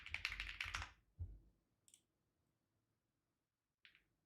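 Typing on a computer keyboard: a dense burst of quick, close keystrokes, then a few isolated clicks separated by silence.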